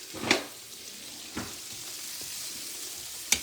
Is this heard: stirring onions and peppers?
yes